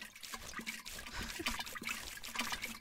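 Watering plants in a horror-themed farming simulator game, a steady splashing and trickling stream of water pouring close up for the whole stretch, with no talking.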